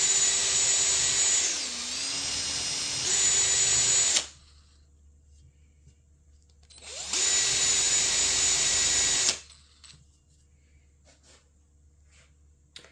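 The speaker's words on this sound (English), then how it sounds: "This is just my standard drill that I'm using." A power drill fitted with a fiber disc whines loudly in two bursts of about four and two seconds while cleaning an old intake manifold, pitch dipping briefly under load, with quiet pauses between.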